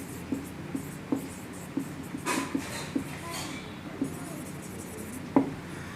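Marker or chalk writing on a board during a Class 10 maths lesson, heard as a series of short, sharp strokes and taps spaced irregularly across a quiet room, with no talking over them.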